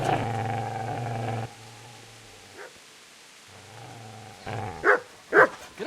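A dog in the medieval game Kingdom Come: Deliverance lets out a few short barks and whines, brief and mid-distance, after a low droning bark sequence at the start.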